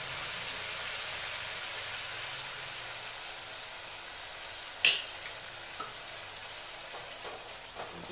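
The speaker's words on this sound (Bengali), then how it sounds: "এবার জলটা আমি ফুটতে দিচ্ছি।" Chital fish curry gravy with added water heating toward a boil in a pan, a steady soft sizzling bubble throughout with a few brief pops and ticks near the end, no voices.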